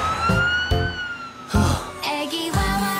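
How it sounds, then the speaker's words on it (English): A cartoon police car siren wails in a repeated up-and-down pattern, loud and close, with bright music-like tones over it and no talking. "Kids, a police car!"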